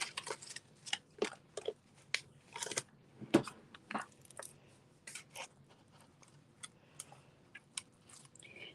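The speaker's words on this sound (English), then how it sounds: "I'm going to put some dimensionals on there." Foam dimensional adhesives are peeled and pressed onto a handmade paper card with ribbon, making a scattered run of soft, close clicks and crinkly taps against faint room hiss.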